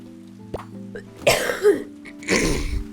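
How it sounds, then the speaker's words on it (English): A few harsh video game coughs close by, two main bursts separated by a short pause, over a quiet background hum. "Lots of coughing today."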